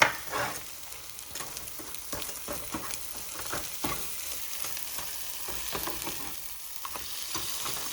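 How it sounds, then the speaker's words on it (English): Eggs are soft-scrambled in a pan with rice nearby, making a low, steady sizzle under repeated light scrapes and taps of a spatula, close but fairly quiet, with no voices. "Just do a nice little soft scramble or regular scramble like you like."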